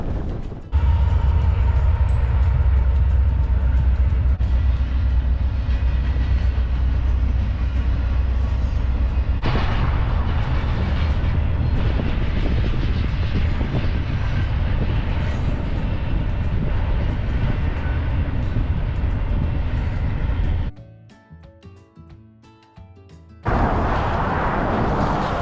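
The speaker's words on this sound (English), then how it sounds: "Seems like every 5 or 10 minutes there's a major train going up and down this track" A loud, steady rumble of a heavy train rolling past nearby for about twenty seconds, then dropping away to quiet before noise returns.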